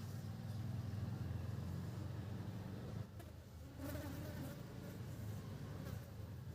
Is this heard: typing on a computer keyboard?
no